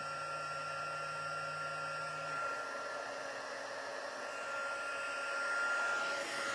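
A heat embossing tool blows hot air over embossing powder on paper snowflakes, a steady, close whirring drone like a small hair dryer, running alone throughout.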